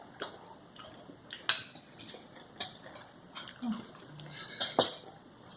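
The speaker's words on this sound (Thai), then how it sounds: "ผัดพริกหน่อยนึงแซ่บ" A spatula clinks and scrapes against a pan as chili is stir-fried, making scattered sharp metallic knocks with quiet gaps between them. Little sizzle comes through.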